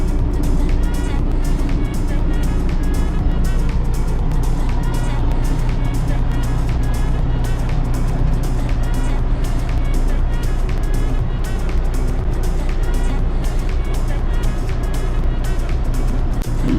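A tractor drives slowly at about 4.5 km/h while planting onion seed in a field, its engine a steady, loud rumble throughout with continuous low drone and rhythmic mechanical clatter.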